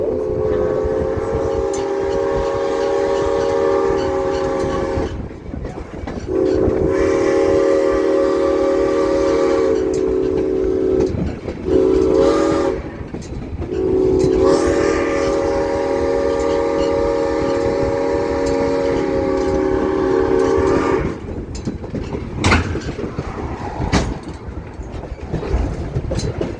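A train rumbles steadily along the rails, its horn sounding in long, drawn-out blasts broken by short gaps, loud and close.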